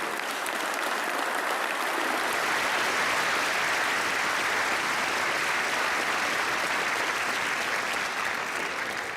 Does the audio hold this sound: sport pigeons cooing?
no